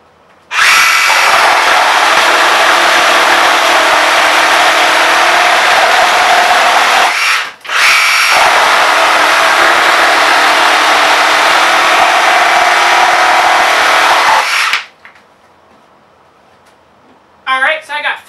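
A DeWalt XR cordless reciprocating saw runs through two loud, steady cutting bursts of about seven seconds each, separated by a brief pause, then stops; faint voices follow near the end.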